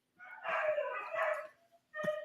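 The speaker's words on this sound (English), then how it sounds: "I've got two dogs going haywire over an ambulance." Two dogs bark and yelp excitedly at a passing ambulance, a burst of overlapping, howl-like barking followed by a short pause and one more sharp volley.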